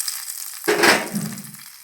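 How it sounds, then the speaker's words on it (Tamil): Hot mustard seed and asafoetida tempering poured and stirred into leftover pongal idli batter, a sudden sizzling burst that fades into soft mixing noise, with no talk. "நல்லா கலந்து விட்டுறலாம்."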